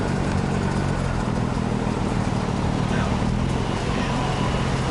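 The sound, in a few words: BMW 335i N55 single turbo exhaust accelerating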